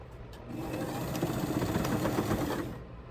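A sewing machine runs a straight stitch along the end of a fabric bag, a steady fast whirring hum for about two seconds before stopping, close and alone.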